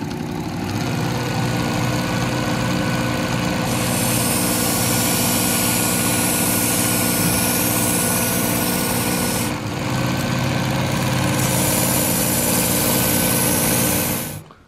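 A Work Sharp Ken Onion Edition electric sharpener whirs steadily while it sharpens a soft-steel kitchen knife, with a bright grinding hiss that starts, stops briefly and resumes over the motor's constant hum, all close by.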